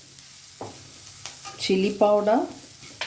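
Ginger garlic paste and spices such as chili powder fry and get stirred in a pan for an ivy gourd curry, with soft sizzling and a few scraping stirs, while a voice speaks briefly.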